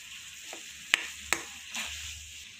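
Mashed chana dal is stirred into jaggery syrup in a pan, a soft continuous sizzling bubble with two sharp clicks of a spoon against the pan, quiet and close, no voices.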